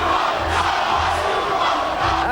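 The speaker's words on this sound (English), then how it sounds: "the crowd of Jackson fans in New York's Battery Park objected to Diane's persistence, chanting for her to ask about Janet's new CD" A large crowd of Janet Jackson fans in New York's Battery Park chants loudly and rhythmically outdoors, with repeated shouted phrases rising and falling across the whole moment.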